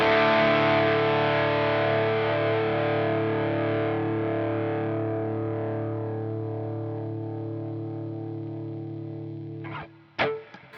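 An electric guitar chord rings through an MXR Timmy overdrive pedal set to its clipping mode, with a bright saturated tone that slowly decays over several seconds before a couple of sharp clicks near the end.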